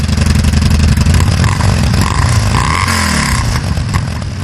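A Yamaha SCR950 scrambler motorcycle engine runs loud and close, a deep continuous throb that rises and falls slightly as it is revved, heard alone without voices.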